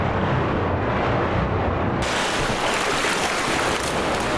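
Water rises in a flooding area in the game Black Mesa, a loud, continuous roaring rush that brightens into a broader, hissing wash partway through.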